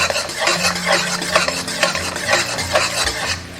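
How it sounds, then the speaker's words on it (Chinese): Sugar, water and cooking oil bubbling over low heat in a pot to make caramel, with a steady close sizzle, repeated scraping and stirring strokes against the pot, and a low hum beneath. "倒入少许食用油，倒入半勺白糖，半勺清水，小火熬"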